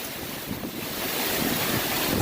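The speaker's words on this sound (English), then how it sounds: "we're getting 80-mile-an-hour gusts right now" Strong gusts of wind, around 80 mph, roar steadily around a portable garage converted into a permanent structure, a loud broadband rush that swells slightly toward the end with no voices.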